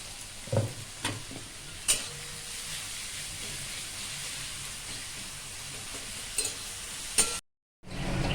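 Salted onions fry gently in ghee with a soft, even sizzle. A few sharper knocks of a spoon against the pan come through, and the sound cuts out abruptly just before the end.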